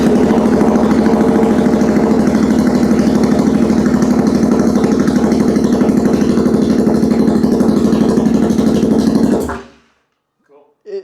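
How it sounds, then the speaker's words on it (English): Supermoto motorcycle running on a straight pipe with no exhaust fitted, idling loud and close with a rough, even chugging throb for about nine seconds before it cuts off into silence. "I know the exhaust is not currently on at the moment, so yes, it is straight pipe. You guys are going to get a bit of a straight pipe ASMR."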